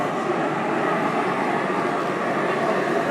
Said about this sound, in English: Got another train making it around